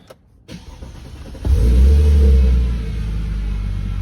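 A car with a DIY 80mm Hemi throttle body swapped onto a 3.0T engine, running low on fuel, cranks briefly and then catches into a loud, steady, deep rumble that settles slightly toward the end.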